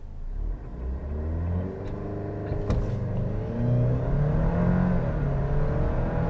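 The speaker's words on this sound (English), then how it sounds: "What I don't particularly love is the sound of this engine." A 2023 Alfa Romeo Stelvio Estrema sports SUV accelerating hard, its engine note rising steadily through the gears from inside the cabin, a loud, smooth droning growl with one brief gear-change dip.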